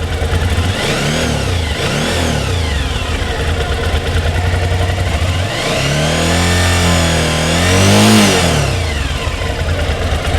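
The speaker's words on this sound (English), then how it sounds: "Let's rev it up." A 2006 Suzuki V-Strom 1000 motorcycle engine idles, then is revved in several loud, close blips that rise and fall, the longest swell near the end, with no voices.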